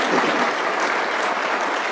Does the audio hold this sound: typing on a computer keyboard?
no